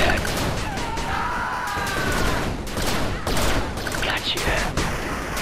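Rapid bursts of small-arms gunfire and impacts from units in the real-time strategy video game 8-Bit Armies: Guardians, crackling in dense overlapping volleys amid busy battle effects.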